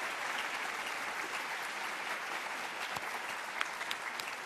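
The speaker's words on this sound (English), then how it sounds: "please join me in giving all of them a big round of applause" Audience applause for conference organizers at a 2009 keynote, dense steady clapping from a large crowd throughout, fairly loud and continuous with no talk.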